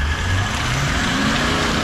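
An off-road 4x4 stuck and spinning its wheels on an extreme trail, engine revving hard with a deep, V8-like throaty roar, loud and sustained throughout.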